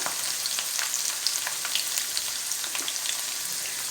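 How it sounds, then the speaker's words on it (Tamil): Karpooravalli (ajwain) leaves fry in hot oil for a homemade hair oil, giving a steady close sizzle dotted with small, fast crackling pops throughout, with no voices. "இதையும் நம்ம ஆயிலில் போட்டுக்கலாம் இது போடும்போது தூரமாக இருந்துக்கோங்க கொஞ்சம் படப்படன்ட்டு சவுண்டு கேட்கும்"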